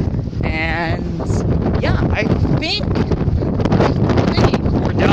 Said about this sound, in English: So again, if you can't hear me, it's the wind.